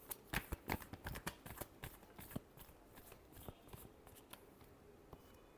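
Tarot cards are given a last shuffle, a run of quick, close, crisp riffling snaps that crowd together at first and then thin out into scattered soft flicks.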